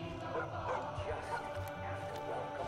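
A dog caged in a small town in the video game Far Cry 5 barks and yips amid dense game noise, the barks mixed low under people talking throughout.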